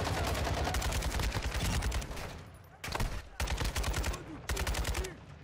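Rapid bursts of automatic gunfire in Call of Duty: Warzone DMZ rattle in quick succession, separated by brief pauses, fairly close and loud.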